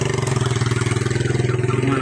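Motorcycle engine running steadily close by, a throbbing mid-pitched idle with even rapid pulses throughout, with a faint voice briefly in the background.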